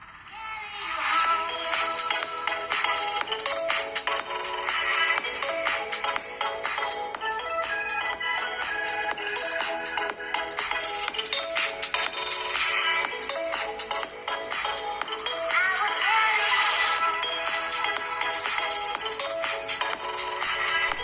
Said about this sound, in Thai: เดี๋ยวให้เพื่อน ๆไปลองรับฟังกันดูนะครับว่า เสียงลำโพงตัวเดียวนะครับ เสียงเป็นยังไงเนาะ